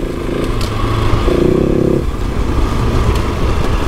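A Husqvarna 701 single-cylinder motorcycle engine idles and revs steadily nearby, with a brief rise in pitch midway and a constant mechanical drone throughout.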